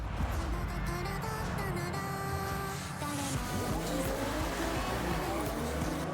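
Ferrari engines drone and whine steadily in a racing video game, with overlapping revs and faint tire squeal, a constant dense mix that barely shifts over a few seconds.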